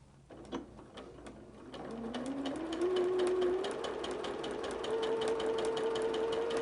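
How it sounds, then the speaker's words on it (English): A sewing machine stitches a fabric seam along drawn lines on bias-cut quilting fabric for half-square triangles. It starts with a few clicks, then speeds up into a rising, steady motor whine with rapid needle ticking, close up with no voices. "Because you're sewing on the bias of the fabric, that's why it's important not to pull on it."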